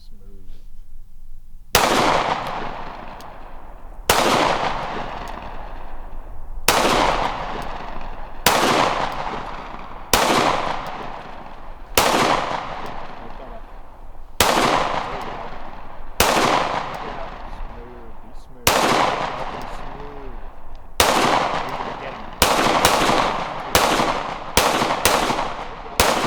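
Sharp pistol shots ring out during a shooting drill, singly at steady intervals of roughly two seconds, then in quick pairs and bursts near the end, each crack close and loud with a short echo.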